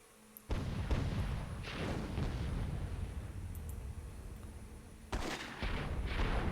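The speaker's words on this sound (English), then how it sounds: "those cannonballs pretty much hit everywhere but the cannon" Cannons in the strategy game Myth II: Soulblighter fire cannonballs that land in a series of heavy booming blasts, loud and overlapping, with a fresh burst of impacts near the end.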